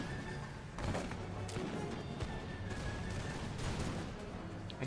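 Cannon fire from a video game set in the American Revolution, a battery blasting canister shot at a militia unit, heard as several distant booms and crackling volleys over a continuous battle din.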